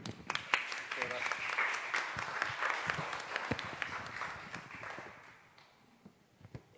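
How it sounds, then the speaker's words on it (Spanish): Audience applause at a book presentation, a dense sustained clapping that fills most of the clip before thinning toward the end, with some talk mixed in. "Un fuerte aplauso, por favor."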